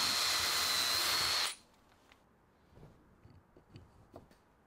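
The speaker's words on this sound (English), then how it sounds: "I'm going to drill that through" A power drill with a countersinking bit bores through wood for a toilet roll holder, one loud high whir for about a second and a half, then stopping abruptly and leaving faint knocks and handling sounds.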